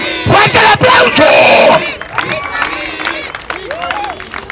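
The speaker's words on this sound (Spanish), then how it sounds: "Y con estos pinches aplausos" A loud crowd at a clown show yells and cheers with scattered clapping, a brief roar up front before settling into a murmur while someone shouts and talks over it.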